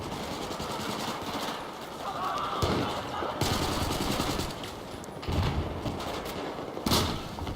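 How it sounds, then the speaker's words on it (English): Sharp rifle reports crack at intervals amid a busy Battlefield 4 Domination firefight, a sniper rifle fired down a hallway, with steady background gunfire and a voice talking over it. "Shooting a sniper rifle down a hallway"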